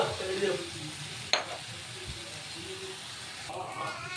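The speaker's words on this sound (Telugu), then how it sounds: "నేను కొంచెం బ్లాక్ సోయా సాస్ చల్లుకుంటున్నాను" Egg fried rice frying in a hot pan as black soy sauce is sprinkled over it, a steady close sizzle and hiss with a sharp clink of a utensil partway through.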